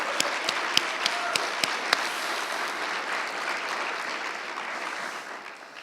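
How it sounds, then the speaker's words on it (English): Audience applause at a live State of the City 2019 event, a steady wash of clapping with a few sharp individual claps early on, holding for several seconds before tapering slightly. "let's give Matthew a round of applause."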